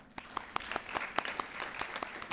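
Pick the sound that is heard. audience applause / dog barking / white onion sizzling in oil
audience applause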